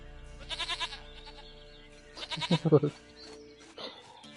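A goat in the game The Witcher 3 bleats in two quavering bursts, the second louder and longer, with a voice speaking faintly around them.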